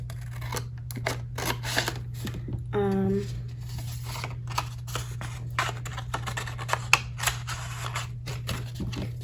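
Scissors cutting straight along a pen mark through material for a miniature bookcase keychain, a run of repeated close snipping cuts over a steady low hum, with a brief tonal squeak partway.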